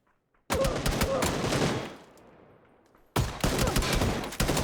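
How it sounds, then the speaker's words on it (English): Gunfire in the battle royale game PUBG: a dense burst of loud, sharp, rapid shots, a decaying lull, then another close-range volley of cracking shots. "2 shotgun shots, the third needing to take him down"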